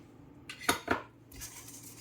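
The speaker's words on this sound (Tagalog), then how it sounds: "Mix lang natin siya guys" Chicken with tomato paste, paprika and rosemary is stirred in a pan, two quick metal utensil scrapes and clinks close up over a faint background hiss.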